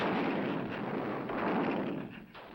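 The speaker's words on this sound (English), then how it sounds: "they're shattered by the anti-aircraft batteries of the German 88mm cannons" German 88mm anti-aircraft cannons firing in the Normandy battle of the war game Big Battles: a dense, sustained roar of rumbling gunfire and blasts, loud and continuous, easing slightly near the end.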